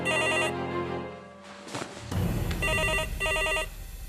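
A telephone bell rings in repeated electronic trills, loud and close, with one burst at the start and a second set after a short noisy gap.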